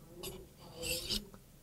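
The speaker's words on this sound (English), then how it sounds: "to sharpen, it's just quite simply orient the knife at a 20-degree angle" A knife edge is stroked across a DMT Diafold double-sided diamond sharpener, producing two or three quick, faint gritty rasps close by, with brief pauses between strokes.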